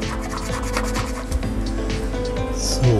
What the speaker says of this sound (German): Muss man nur so ganz leicht drüber schaben.